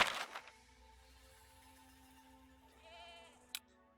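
Sheep in the video game Medieval Dynasty, lambs in a pen: a single short, wavering bleat rises briefly out of quiet game ambience, followed by a faint click.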